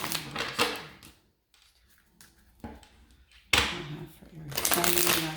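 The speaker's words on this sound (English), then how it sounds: "So I am going to shuffle." Tarot cards shuffled up close in several quick riffling bursts separated by short quieter gaps.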